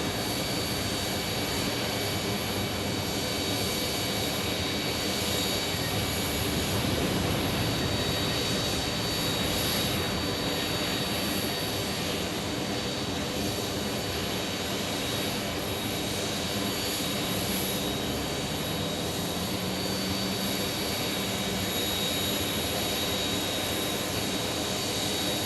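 A Boeing 757-200 jet landing at Phoenix Sky Harbor Airport, its engine roar a continuous loud broadband wash with a faint whine, sustained for the whole stretch with no talking.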